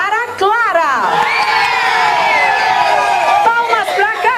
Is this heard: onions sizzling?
no